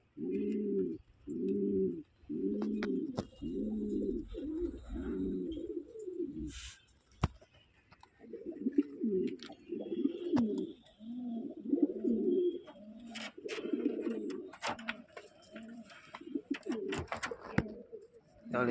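Lakka and Sundori pigeons coo in a cage, a steady run of soft, throaty rolling calls close by, pausing briefly midway before the cooing resumes, with faint clicks and shuffles around it.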